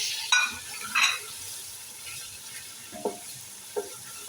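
Chicken frying with tomatoes and green chillies in a pot under a low steady sizzle, with a few sharp scrapes and clinks of a stirring spoon scattered across it.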